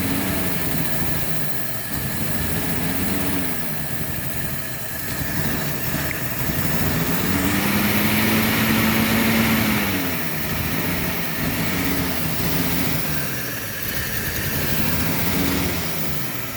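An old car engine, just restarted after 55 years off the road, idles steadily up close with a low uneven rumble that swells and dips in pitch over several seconds, running alone without talk.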